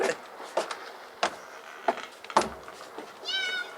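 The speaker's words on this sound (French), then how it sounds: "voilà au moins un chat, celui du cuistot" A ship's cat aboard a ship meows a few times in short separate calls, close by, with light clattering between them and a longer drawn-out meow at the end.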